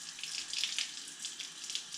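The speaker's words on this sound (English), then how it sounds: "Hearing the sound of the water dripping or splashing or" Tap water running steadily into a sink while dishes are washed, a soft continuous hiss and splash with small irregular surges, fairly faint and alone.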